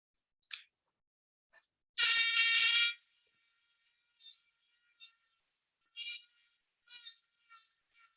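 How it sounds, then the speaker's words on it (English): A buzzer whirled on a string gives a long high buzzing tone, followed by several short separate bursts, loud and close against silence. "Here's a buzzer on a string."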